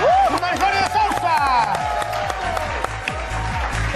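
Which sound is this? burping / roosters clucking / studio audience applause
studio audience applause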